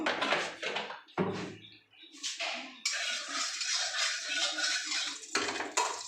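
Metal utensil clatters and scrapes against a wok in bursts as note shak greens are stirred in oil, with a steady sizzling hiss between strokes.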